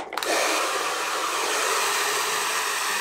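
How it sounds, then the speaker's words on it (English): A hair dryer switches on and blows steadily while drying hair, a loud, close, continuous whooshing roar that holds an even pitch after a brief start. "so I will be using my hair dryer"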